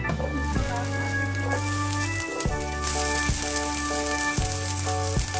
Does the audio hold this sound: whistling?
no